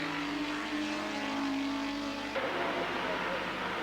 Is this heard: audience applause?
no